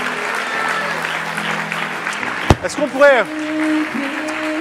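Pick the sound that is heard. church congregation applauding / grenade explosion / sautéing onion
church congregation applauding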